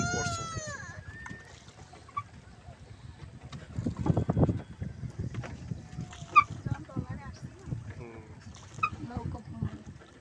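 A boat ride on water near Maheshkhali ghat, with soft splashing and creaking under people talking close by, and a burst of louder water noise midway.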